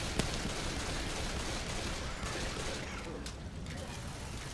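Continuous burst of gunfire in the zombie shooter Left 4 Dead 2, a steady dense crackle of shots running the whole length, fairly quiet in the mix, with faint voices underneath.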